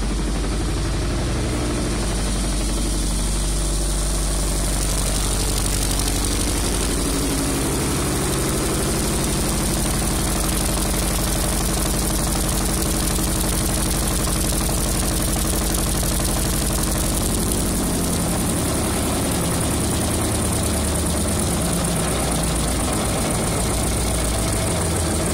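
An old generator's 2.2 engine runs steadily under load for the whole stretch, a deep continuous rumble with a mechanical drone, heavy and close, with no voices.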